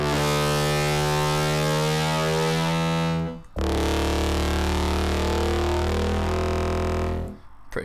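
A synth bass patch heavily processed with the Camel Crusher distortion plugin plays alone as a loud, gritty, sustained buzzing tone, holding one long note, briefly cutting out, then another long note.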